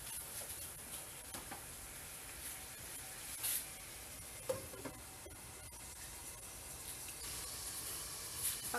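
Chicken simmering in a pan until golden brown gives off a faint, steady sizzle and hiss, with a few soft clicks of stirring.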